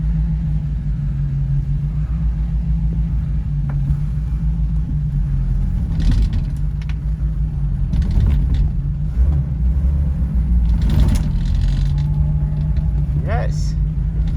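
A barn-find Morris 1300 car moves off on a hill, its engine a steady low rumble throughout with faint mechanical clunks and a brief squeak near the end, no talk over it.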